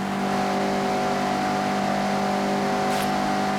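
A Mazda MX-5 race car in Forza Horizon 6 accelerates, its engine holding a steady, loud mid-pitched drone with strong harmonic tones throughout, briefly rising near the end.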